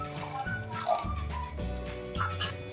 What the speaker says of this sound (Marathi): आणि यामध्ये अर्धी वाटी पाणी टाकून घेऊ